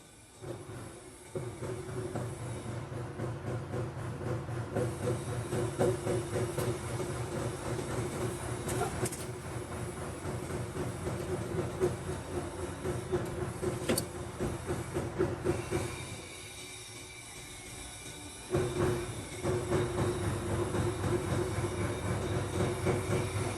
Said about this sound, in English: And to the automatic feeding machine. Hydraulic bending and foaming.